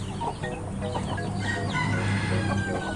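Chickens cluck and crow close by among a brooding hen and her chicks, a dense, steady barnyard chatter with overlapping calls throughout.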